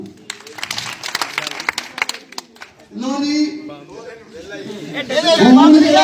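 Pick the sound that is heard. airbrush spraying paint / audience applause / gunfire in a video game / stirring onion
audience applause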